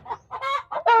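Chicken clucking up close, a few quick throaty clucks and squawks in rapid succession within a single second, loud and clear.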